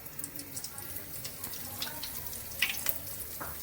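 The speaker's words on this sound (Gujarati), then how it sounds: "જો કે એમાં આપણે હિંગ નાખી દઈએ પહેલાં." Asafoetida dropped into hot oil in a home kitchen while cooking a Gujarati corn paneer curry, giving a steady close sizzle and crackle with a brief louder burst of spattering midway.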